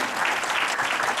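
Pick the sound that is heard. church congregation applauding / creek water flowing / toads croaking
church congregation applauding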